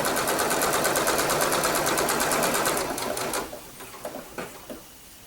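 A sewing machine stitches a blanket stitch along quilt binding in a fast, even mechanical chatter for about three seconds, then slows and stops, leaving a few isolated clicks and taps close by.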